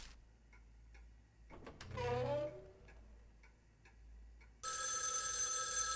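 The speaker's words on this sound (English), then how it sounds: "What? Another phone call." A telephone in a video game rings loudly and continuously near the end after ticking sounds and a brief swelling musical tone, with no voices heard.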